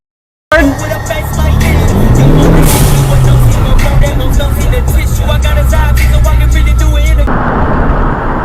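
A car roars past at speed on a road, loud and close, its engine pitch rising then falling as it passes, with heavy continuous road and engine noise throughout.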